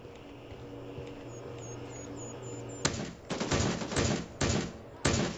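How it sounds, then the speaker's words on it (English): Gunfire in the shooter game Gray Zone Warfare, a quiet ambient stretch broken by several loud rapid bursts of shots in the second half. "Ooh, shots my way."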